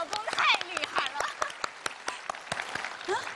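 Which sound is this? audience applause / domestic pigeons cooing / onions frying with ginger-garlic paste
audience applause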